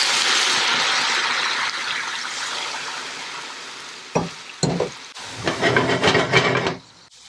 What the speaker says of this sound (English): so now I'm just going to add some of this dashi in here